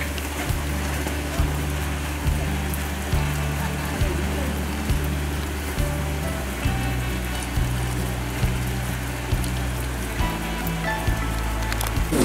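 Steady rain hisses across the water of a fishing pond on a stormy day, a dense, loud wash of drops with a low rhythmic thumping underneath and no clear talk.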